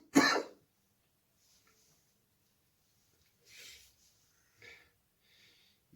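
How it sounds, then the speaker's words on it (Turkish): A person sick with COVID gives a sharp, loud cough at the start, followed after a pause by several fainter throat-clearing coughs and breaths, close up in a quiet room. "Nefesi biraz derin çektiğinizde hemen öksürüyorsunuz."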